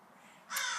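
A crow gives a single loud, harsh caw close by, bursting in after a stretch of quiet outdoor background.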